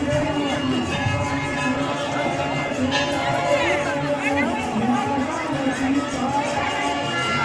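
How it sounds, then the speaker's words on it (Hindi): Dense crowd hubbub at a busy Hanuman temple fair during Diwali, a steady wash of many overlapping voices and footsteps close around, with no single voice standing out. "तो भीड़ भाड़ तो काफ़ी ज़्यादा है"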